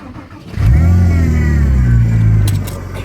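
A Porsche Carrera GT Gemballa engine fires up after a brief quiet moment, then holds a loud, deep rumbling idle with slight revving that eases off toward the end.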